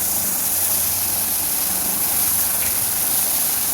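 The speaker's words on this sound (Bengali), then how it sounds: "যেই যে অল্প একটু তেল আছে তার মধ্যে আমি হালকা চাল কুমড়োটা নাড়াচাড়া দিয়ে নেব" Ash gourd pieces stirred in a small amount of hot oil give a steady, loud, broad sizzling hiss that holds evenly throughout with no talking.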